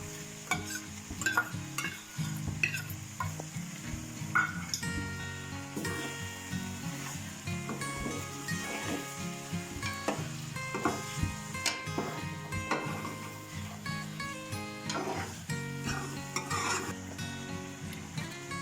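A ground paste of garlic, ginger, fenugreek and garam masala fries in a pan for a potato chicken curry, sizzling steadily with repeated scraping and stirring knocks, while music plays along underneath.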